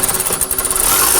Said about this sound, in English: Let's go ahead and snug down that inward bolt.